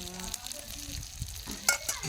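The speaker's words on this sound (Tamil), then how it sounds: "அடுப்புலேருந்தே பொரிச்சுங்க." Banana fish curry sizzles and fries in a pan on the stove, a steady soft crackle with a few sharper pops near the end, close by and fairly quiet with no talking.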